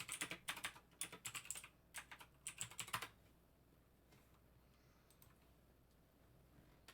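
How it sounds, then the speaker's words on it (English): Someone types rapidly on a computer keyboard in close, clattering bursts for about three seconds, then the room falls to near silence. "he was typing that."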